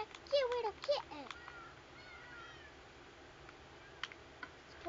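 A baby kitten gives a couple of thin, high, rising meows early on, fairly close but quiet, followed by soft background noise in a home.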